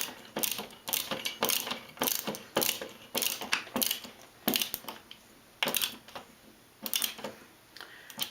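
Fasteners on a towel rack being tightened with a ratcheting tool, a series of quick close clicking bursts repeating in short irregular runs.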